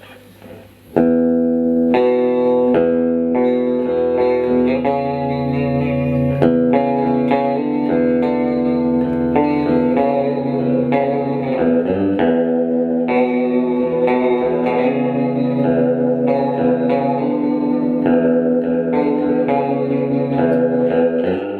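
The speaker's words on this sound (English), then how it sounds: "So you can just make it a vibrato pedal." A sustained, chiming electric guitar through a Catalinbread Adineko pedal set to vibrato plays chords and melody continuously, with a wavering vibrato effect, fairly loud and close, with no voices.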